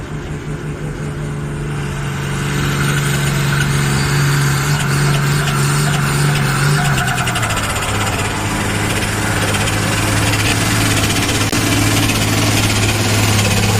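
Perkins five-cylinder engine running at a threshermen's reunion in Pontiac, Illinois, a loud, steady, close-up drone that climbs in load and then settles into a slightly lower, even pitch.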